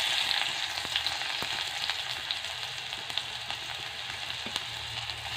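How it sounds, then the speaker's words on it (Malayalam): Onion fries in a pan for masala ada, giving a continuous close sizzle with scattered pops and small clicks throughout, and no one speaking. "പിന്നെ അത് കഴിഞ്ഞ് നമുക്ക് ഉള്ളി ഇട്ട് കൊടുക്കാം."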